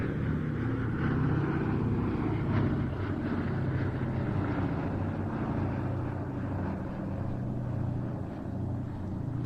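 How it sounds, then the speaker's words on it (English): A B-17G bomber's four 1,200-horsepower Wright Cyclone radial engines drone at an airshow, a steady deep rumbling roar that holds fairly evenly throughout at moderate distance. "That's the sound of 4 1200 horsepower Wright Cyclones."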